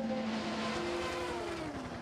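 At the 2017 24 Hours of Le Mans, Porsche and Ferrari race cars battle closely, their engines giving a loud, steady, droning whine that bends slightly in pitch as they run together.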